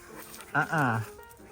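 A wet dog fresh from a swim gives a short, high whimpering whine close by, rising and falling in pitch for under a second amid quiet surroundings.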